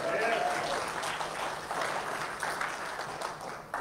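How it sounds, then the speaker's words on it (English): A church congregation claps together in a steady, lively patter, with a brief voice near the start. "give him a hand clap"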